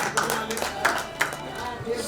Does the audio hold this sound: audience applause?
yes